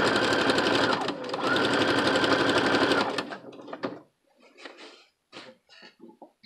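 A sewing machine runs a straight stitch in a steady, loud mechanical whir for about three seconds, with a brief pause partway through, then stops, leaving faint clicks and handling noises.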